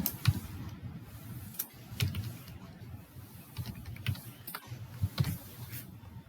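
Code is typed on a computer keyboard, giving rapid, irregular key clicks close by in short bursts separated by brief pauses.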